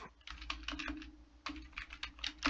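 Rapid keystrokes on a computer keyboard, typed in two quick bursts with a brief pause between them, close and fairly quiet, with no talking.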